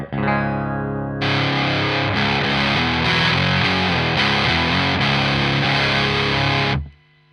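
Electric guitar through a Boss Power Driver distortion pedal with all knobs at noon, a single note rings briefly before a thick, loud distorted riff sustains for several seconds and then cuts off.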